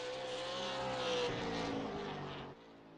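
A super late model race car screams past on a hot lap around an oval track, its high engine whine loud and steady, then dropping in pitch as it moves away near the end.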